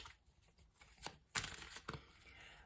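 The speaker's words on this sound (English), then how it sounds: "We're just going to start shuffling again." Quiet riffling and soft slapping of tarot cards being shuffled, a few brisk flicks up close against near silence, with no voices.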